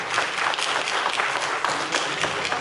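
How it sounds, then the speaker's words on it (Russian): An audience applauds at the closing awards ceremony of a 2015 stone-working trade exhibition, a dense, even patter of many hands clapping continuously at moderate distance. "Больше всех хлопает."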